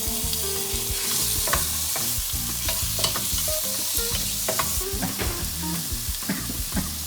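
Scallops dropped into a hot pan for pad krapao, with loud steady sizzling and frying throughout and repeated scraping stir strokes close by.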